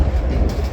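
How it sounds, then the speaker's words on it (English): An old tram rolling past on a street in Riga, Latvia, a steady low rumble of wheels on rails, fairly close and loud for the whole short moment, with no voices. "Oh, old tram's coming."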